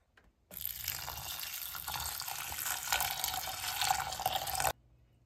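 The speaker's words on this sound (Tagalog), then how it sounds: "And just add water." Water pours in a steady stream into a cooking pot for oatmeal, close and continuous for about four seconds before stopping abruptly.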